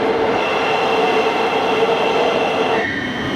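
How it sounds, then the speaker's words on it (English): A train on the Euston to Birmingham line rumbles steadily past with a sustained metallic hum as it arrives at a station, then the pitch shifts as it slows near the end. No one speaks. "Here's our train."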